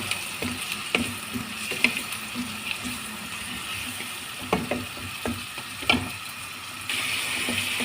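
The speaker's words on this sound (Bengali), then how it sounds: "পেঁয়াজটা এখন নরম হয়ে গেছে, এখন দিয়ে দিব চিংড়ি। চিংড়িটা দিয়ে দিলাম।" Shrimp frying in a pan with softened onions, a low steady sizzle broken by occasional scraping and stirring clicks, close and without talk.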